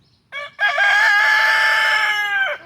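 A black rooster crows a single long cock-a-doodle-doo, loud and close, opening with a short clipped note before the sustained call, with no other sounds around it.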